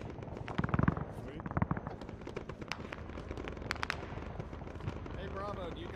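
Gunfire in the military shooter Arma 3 crackles in scattered bursts of shots and booms, some close and some distant, with voices talking over parts of it.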